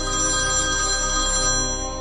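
A phone ringtone plays continuously and loudly, a sustained electronic melody with no voices.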